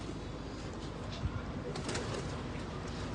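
Racing pigeons coo in a loft, their soft calls faint and scattered over a steady broadband background noise, with a brief wing or movement sound partway through.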